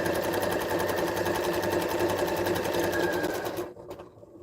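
A sewing machine chain piecing sweater quilt blocks runs in a steady, rapid, close stitching whir, then stops abruptly just before the end.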